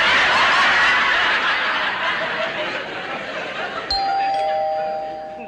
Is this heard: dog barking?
no